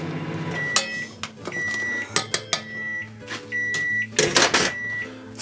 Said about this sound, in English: Sorry about the microwave beeping in the background.